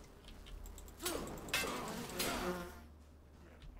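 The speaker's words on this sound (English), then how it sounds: "It's bloody bees." Bees buzzing in the survival action RPG Enshrouded, a faint insect drone under ambient game sound with a few swelling passes, no speech.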